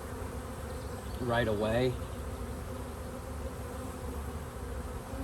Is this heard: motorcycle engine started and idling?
no